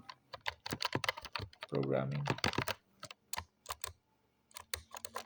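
A computer keyboard clatters in quick, uneven bursts of keystrokes, mixed in with someone speaking Hindi nearby.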